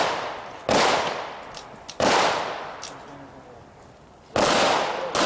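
Pistol shots ring out at an outdoor IDPA shooting match, sharp loud cracks in separated clusters with decaying echo between them.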